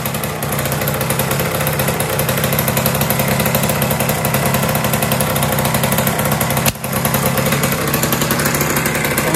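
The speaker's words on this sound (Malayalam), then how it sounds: "സ്റ്റാർട്ടായി എന്ന് മാത്രമല്ല ഐഡ്ലിങ് ചെയ്യുന്നുണ്ട്." A self-built Shaolin engine idling steadily right after its first start, a loud, close, continuous mechanical chug with a rapid even pulse and one brief dip in the middle.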